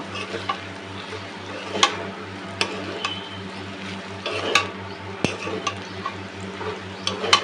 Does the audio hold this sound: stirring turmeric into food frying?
yes